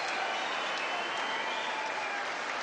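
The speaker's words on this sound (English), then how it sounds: "Well, even the referee's applauding." Crowd at an amateur boxing final applauding, a steady loud wash of clapping throughout that fills the whole space without pause.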